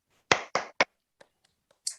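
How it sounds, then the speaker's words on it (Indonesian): A classroom's rhythmic tepuk semangat spirit clap, three sharp claps in quick succession followed by faint scattered taps and one final crisp clap, close and dry in a quiet room. "Yuk, tepuk semangat."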